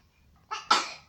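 A person sneezes once nearby during a chess commentary session, with a short intake and then a sharp, bright burst fading out within a second.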